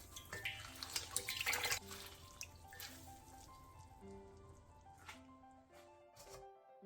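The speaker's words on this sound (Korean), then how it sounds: "데친 머위는 바로 찬물에 3-4번 정도 깨끗하게 헹궈낸 뒤 물기를 꼭 짜주세요." Blanched butterbur being rinsed in cold water, with running tap water splashing into a bowl and wet squishing handling of the greens, fairly close and steady, with no talking.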